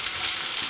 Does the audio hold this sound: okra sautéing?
yes